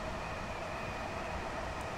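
A London commuter electric train in Train Sim World 2 coasting with the throttle cut, a steady broadband rumble with a faint constant whine, even and unbroken throughout.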